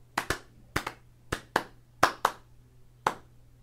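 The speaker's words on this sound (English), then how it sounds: "Now clap 4 times" A quick, uneven series of roughly nine crisp hand claps, many in loose pairs, sounds fairly soft and close in a quiet room, with no speech over them.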